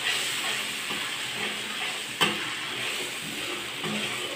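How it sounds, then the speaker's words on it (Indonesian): Ground onion and belacan shrimp paste fry in hot oil, giving a steady, close sizzle with a light stirring scrape, one brief sharp crack near the middle, and no one talking. "goreng sampai dia pecah minyak"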